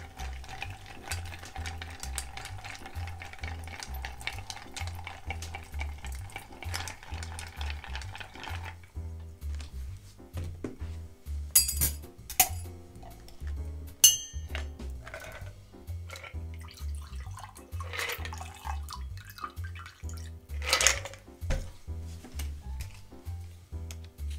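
A bar spoon stirs ice in a mixing glass for a Sazerac with Demerara, giving a steady rhythmic clinking and swishing that continues throughout, with a few sharper clinks later on.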